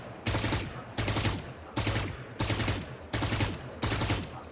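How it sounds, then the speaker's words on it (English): Phantom or Vandal rifle in a tactical shooter game fired in six short controlled bursts, evenly spaced about every 0.8 seconds, each a loud crisp crack of a few rapid shots with a ringing tail. "Put a phantom or vandal, whatever you like, and 5 shots controlling the recoil, and making sure it's in the same area."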